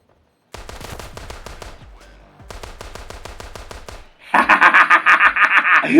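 Rapid automatic bursts of TEC-9 fire in the mobile shooter Standoff 2, two loud sustained strings of close shots separated by a short gap, then a denser, brighter burst of repeated blasts.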